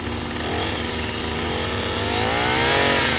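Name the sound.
drill boring a hole through a utility pole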